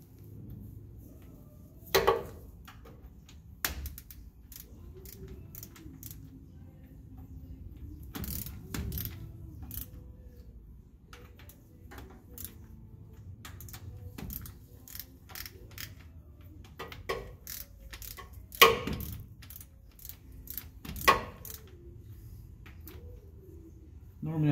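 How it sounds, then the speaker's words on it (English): Jetco torque wrench ratcheting on bolts of an Allison 4070 transmission on an Oshkosh MTVR truck, scattered sharp clicks and short mechanical bursts over a quiet workshop background with occasional faint murmurs. "this is an actual professional, it's called a Jetco torque wrench"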